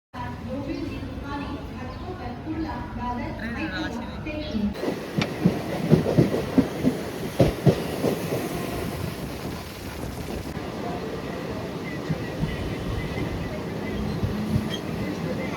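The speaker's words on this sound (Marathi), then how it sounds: "खोपोली स्टेशनला आली गाडी" A local train pulling into Khopoli station, rumbling and clattering with rhythmic wheel knocks and heavy wind buffeting on the microphone, the roar steady and close for the whole stretch.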